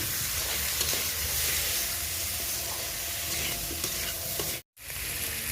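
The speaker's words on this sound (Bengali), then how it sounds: "মশলার সঙ্গে মাছগুলো আর একটু ভালো করে কষিয়ে নেবো" Large golda prawns sautéing with spices in a pan, with a loud steady sizzle and soft scraping of stirring that cuts out briefly near the end and then resumes.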